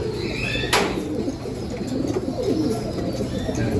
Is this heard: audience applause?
no